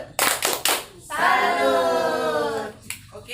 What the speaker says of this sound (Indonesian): kita beri tepuk salut dulu ya